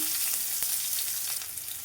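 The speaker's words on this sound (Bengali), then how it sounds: "রসুনটা কিন্তু ভাজা হয়ে গেছে" Chopped garlic frying in hot oil, a dense continuous sizzle with a couple of sharp crackles and faint stirring scrapes, close and steady.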